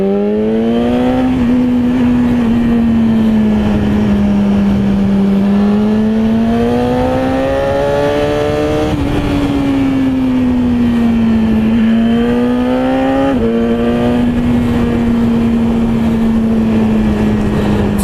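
BMW S1000RR motorcycle with an aftermarket exhaust, heard while riding: a loud, close, continuous engine drone whose pitch rises and falls gently as the throttle shifts, with no talk over it.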